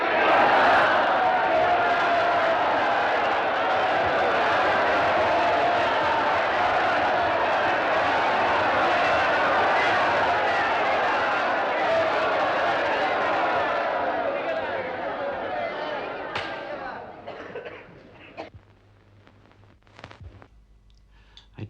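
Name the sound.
crowd of extras cheering on a film set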